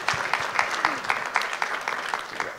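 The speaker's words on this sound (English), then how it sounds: "I just got a clap on that." Brief burst of applause from a small audience during an architecture panel conversation, scattered claps rising and fading over a couple of seconds.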